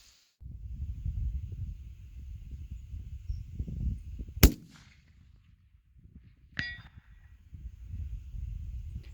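A 6.5 Creedmoor rifle fires at a target over a cleared field: one sharp, loud report stands out against steady outdoor wind rumble, followed a couple of seconds later by a fainter metallic ring of a hit.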